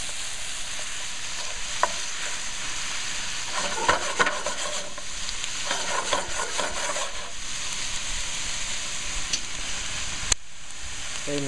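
Guanciale, cured pork cheek, sizzles steadily as it renders in a pan for bucatini all'Amatriciana, a continuous close crackling hiss with scattered pops and stirring scrapes, no talking.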